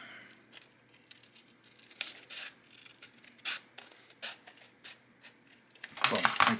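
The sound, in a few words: cutting out a piece of leather for a knife sheath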